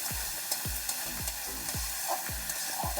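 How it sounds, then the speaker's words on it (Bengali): Spice paste with ground tomato sautés in a pan with a constant hiss, while regular scraping stirs of a spoon come about twice a second with faint clinks. "তো এইভাবে মশলাটা আমি ভালো করে কষিয়ে নেব"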